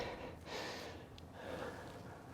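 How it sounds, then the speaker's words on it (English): Heavy, gasping breaths from a golf instructor winded after repeated swings, a few quick rasping inhales and exhales, close and soft, with no speech. "getting out of breath here, guys"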